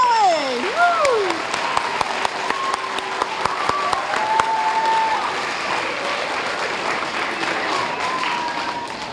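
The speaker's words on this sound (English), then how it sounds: "a huge round of applause for Mrs. Robin Abadile" Applause at a school assembly fills the hall, with dense clapping and a cheering voice rising over it near the start. Scattered crowd noise and some talk continue at a steady, fairly loud level throughout.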